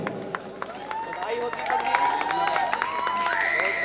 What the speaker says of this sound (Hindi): जोरदार तालियों से सम्मानित करें।